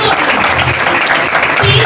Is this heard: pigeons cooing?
no